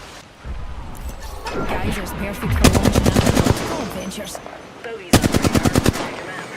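Bursts of automatic weapon fire in the video game Apex Legends come as two rapid, sharp volleys amid game effects and movement noise, with a player speaking over the action.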